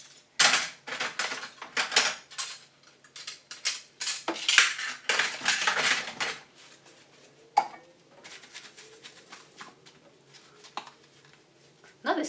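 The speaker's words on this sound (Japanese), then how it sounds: "もうここからは食器洗って" Dishes and cutlery being washed at a kitchen sink, with clattering plates and clinking utensils in irregular bursts alongside running water, fairly close and moderately loud.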